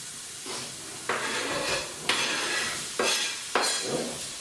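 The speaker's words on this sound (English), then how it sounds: "Going to add the chopped onions." Chopped onions sizzling in a pan, a soft steady hiss broken by four rhythmic bursts of scraping and stirring, close and moderately loud, with no voices.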